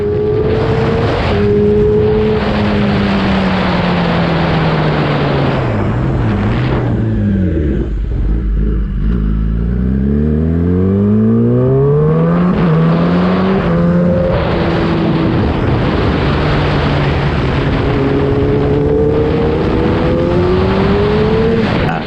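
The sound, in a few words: motorcycle engine revving on test ride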